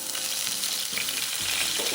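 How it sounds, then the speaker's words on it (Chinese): Scallion-garlic paste frying in hot oil in a wok over medium-low heat, a continuous close crackling sizzle with light stirring and scraping, no voices. "慢慢將蔥蒜泥爆香。"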